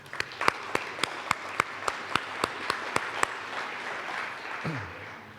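At a BBB awards ceremony, crisp, evenly spaced claps ring out near the microphone over a softer bed of audience applause, the distinct claps stopping partway while general clapping continues.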